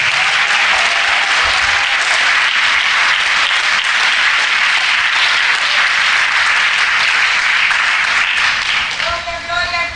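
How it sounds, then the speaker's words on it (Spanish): A church congregation claps loudly and steadily for the full stretch, a dense, sustained wash of applause with a voice briefly rising over it near the end. "Fuerte los aplausos"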